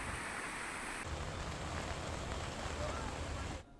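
Heavy rain pours down in Mumbai, a dense, steady hiss of water hitting the surface that continues without a break before cutting off abruptly at the end.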